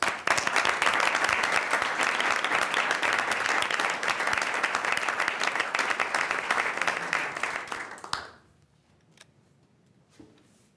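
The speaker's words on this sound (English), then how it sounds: "If you could give them a round of applause" An audience applauds at a Johnson County Community College Board of Trustees meeting, with dense, steady clapping for about eight seconds before it stops abruptly and leaves near silence.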